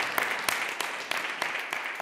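A church congregation applauds with scattered sharper claps, a steady broadband patter lasting a couple of seconds, moderately loud.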